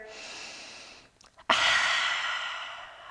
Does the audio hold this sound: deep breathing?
yes